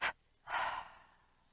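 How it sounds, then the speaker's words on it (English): Yoga breathing in a beginner Hatha session: one quick, soft breath, a short pause, then a longer, airy outward breath that trails off. Close and quiet, with no talking. "Deep inhale, double exhale."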